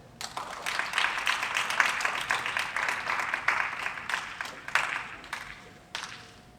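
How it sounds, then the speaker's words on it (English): An audience at a book launch applauds a speaker being welcomed, moderately loud, fairly close clapping that holds steady for several seconds, then thins out to a few scattered claps. "Please give him a round of applause."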